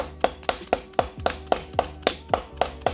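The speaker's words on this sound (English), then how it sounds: "Now you're gonna need to hammer this in, which is why they come give you, you know, this tool." An AN fitting is hammered into an RB valve cover through an installation tool, about eleven sharp, evenly spaced metallic knocks in quick steady rhythm, close and clear, with no talking.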